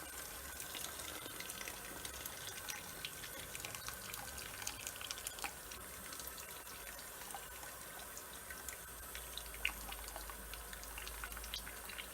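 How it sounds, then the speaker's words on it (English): Hot water runs steadily out of a wort chiller during homebrewing of beer, a faint, continuous splashing flow with no talking. "Hot water coming out."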